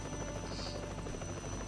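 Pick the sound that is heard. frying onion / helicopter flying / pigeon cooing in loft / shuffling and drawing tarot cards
helicopter flying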